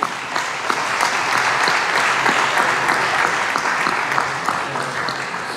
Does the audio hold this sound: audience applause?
yes